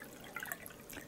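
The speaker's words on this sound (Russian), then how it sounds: "Я воду лью." Water poured by hand, a short faint burst of dripping and splashing with bright trickling spatters, heard alone with no talk.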